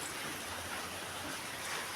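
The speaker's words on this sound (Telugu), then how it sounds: "వాన చూడండి ఎంత బాగా వస్తుందో." Heavy first rain after a long dry spell, a dense steady hiss of drops falling all around with no pauses, fairly close and constant throughout.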